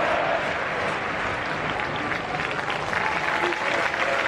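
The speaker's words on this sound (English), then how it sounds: "the Anfield crowd is now singing the name of Luis Suarez, who turns and applauds them" Football crowd at Anfield during a Liverpool all-star charity match, applauding and singing a player's name, a broad continuous roar of clapping and voices filling the stadium.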